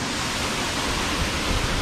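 Taktak Falls waterfall in Siargao, a steady, loud, broad rushing roar of falling water with no voices.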